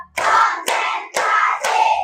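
A classroom of pupils claps in unison, four sharp group claps evenly spaced about half a second apart, each ringing briefly before the next.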